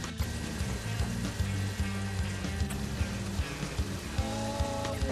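Red wine sizzling and bubbling in a hot pan as a shepherd's pie sauce cooks, a steady soft frying hiss with faint clinks and a light rhythmic tapping over it.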